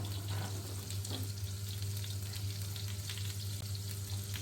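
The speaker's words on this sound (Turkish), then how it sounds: "Şimdi yağımızı eritiyorum böyle." Butter melting in a pan gives off a steady, dense sizzle with faint crackles that runs unbroken throughout, close by, over a low constant hum.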